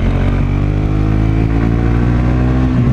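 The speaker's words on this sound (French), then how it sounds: "on entendrait d'autant mieux le bruit du moteur. Et ça vaut le coup sur ce petit silencieux." A Suzuki GSX-S 125 motorcycle with a small silencer runs close by, its steady engine note holding a mid-pitched drone with a slight clatter and no voices.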